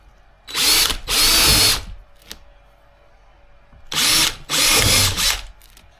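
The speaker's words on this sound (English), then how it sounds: "I'm just drilling right through to the wood." Power drill boring through wood during door card repairs on a BMW 2002 restoration, heard as two loud bursts of high whine, each a pair of runs separated by a quiet pause.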